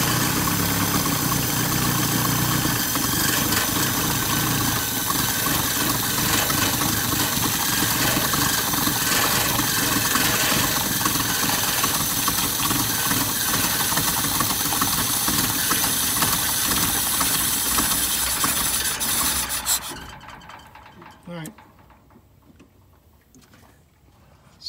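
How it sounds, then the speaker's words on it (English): A 1978 Toyota Wolverine 4x4's engine runs as a loud, steady, rough drone for about twenty seconds, then cuts out abruptly, leaving only faint background noise. "Try cranking it again, Kasey."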